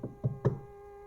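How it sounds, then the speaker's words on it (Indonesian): Three knocks on a front door, the first soft and the next two sharper and louder, spaced about a fifth of a second apart, over a faint steady hum. "Terdengar suara ketukan pintu depan"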